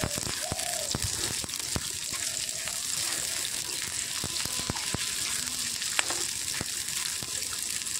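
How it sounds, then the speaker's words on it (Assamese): Onion and green chilies fry in hot oil, a steady bright sizzle with scattered clicks and scrapes of a spatula stirring the pan, close and alone with no talk. "তেলখিনি গৰম হোৱাৰ পিছত ইয়াতে পিয়াজ আৰু জলকীয়াখিনিও দি দিম"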